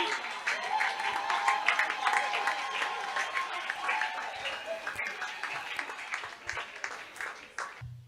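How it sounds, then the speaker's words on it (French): Church congregation applauding and cheering in praise of the king of kings, with sustained dense clapping and voices over it that continue steadily and fade slightly toward the end. "Acclame pour le roi des rois."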